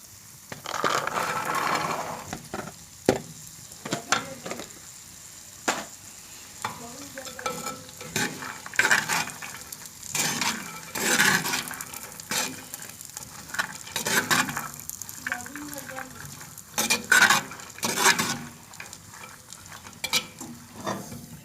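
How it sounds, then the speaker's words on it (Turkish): Dried beans tip into a clay pot and get stirred, with close rattling, scraping and crunchy shuffling strokes repeating over about twenty seconds against a faint hiss, and no talking. "Şimdi bu aşamada kuru fasulyemi de ilave ediyorum."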